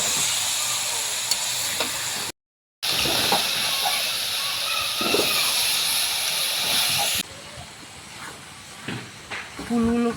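Jujubes (kul) frying in a pan for a sweet-sour pickle make a loud, dense sizzle and hiss with stirring scrapes. The sizzle briefly cuts out, then eases to a quieter crackle with a few clatters.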